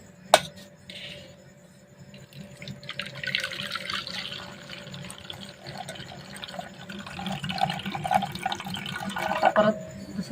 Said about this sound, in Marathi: मटकी मस्त आता आपण यावरचं पाणी काढून घेऊ